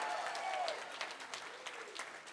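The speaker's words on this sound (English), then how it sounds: "let's clap for education and health" A breakfast audience claps along in a faint, distant patter of scattered hand claps with a thin tone and some background voices underneath.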